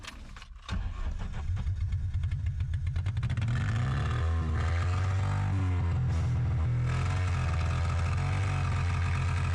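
A stalled, long-abandoned car cranks and restarts in a snowy, slushy muddy field, the starter catching quickly before the engine settles into a loud, close, rough idle with rising revs that drone on steadily.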